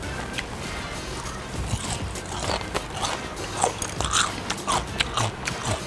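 Crispy fried calamares, Filipino street-food style with thin tentacles, bitten and chewed up close, giving a run of sharp crunches and crackles over low background noise.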